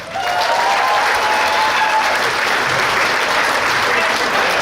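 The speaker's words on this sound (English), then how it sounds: "Round of applause right now for Pat House." Loud, full applause from a comedy club audience at Wiseguys in Salt Lake City greeting a comedian, a thick continuous roar of clapping that stays strong from start to finish, with faint voices mixed in.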